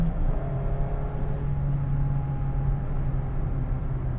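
A Mazda ND1 Miata RF drives along, its engine giving a steady, moderately loud low hum with a faint higher whine, cruising evenly with no clear revving.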